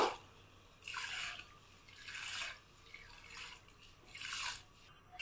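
Drained sun-dried aatop rice goes into a pot of warm water for village-style payesh with date-palm jaggery, producing soft watery splashing bursts that come and go about once a second, faint and close.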